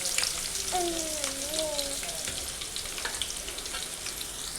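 Garlic frying in hot oil in a blackened kadai with green chillies for a dill leaf palya, a continuous close sizzle with a brief voice early on.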